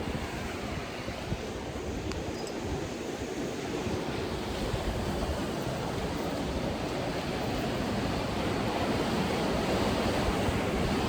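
Swollen river current rushing beneath an old train trestle bridge during a storm, a loud, constant broadband roar of water mixed with wind buffeting the microphone, unbroken for the whole stretch.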